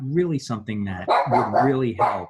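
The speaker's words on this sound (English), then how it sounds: "If you hear that, that's my dog." A dog barks in the background of a home podcast recording, short yips mixed under someone talking steadily in the foreground.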